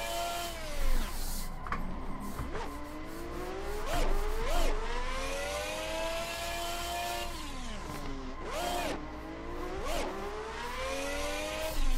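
A 1600-horsepower rear-wheel-drive Quadra car in Cyberpunk 2077 drifts sideways while its engine revs loudly and steadily. The pitch climbs and drops again and again as the throttle is worked.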